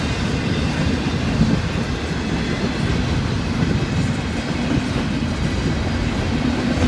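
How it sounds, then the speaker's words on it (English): A long freight train rolls steadily past on the old B&O railroad line on a cold, windy day, its continuous low rumble and wheel noise loud and close throughout with no break. "This is a long train here."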